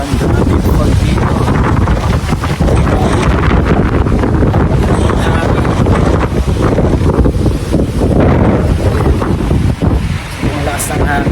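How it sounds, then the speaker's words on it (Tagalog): Strong wind buffets the microphone outdoors in Tagaytay, a loud continuous roaring rumble that never lets up for the whole stretch, with faint voices buried underneath. "Ang lakas ng hangin."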